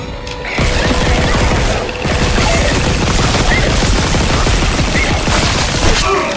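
Rapid gunfire in the sci-fi horror game Dead Space, a loud, dense stream of shots running almost continuously with a short break near the start, with no talk over it.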